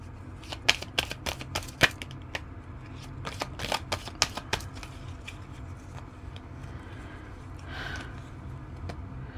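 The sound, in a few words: shuffling playing cards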